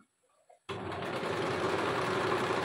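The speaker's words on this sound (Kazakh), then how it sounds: "Мінекей бұны да әрлеу қылып тігемін." Sewing machine stitching decorative finishing on a garment, starting abruptly after a short quiet moment and then running as a steady, close, continuous whir with no talk over it.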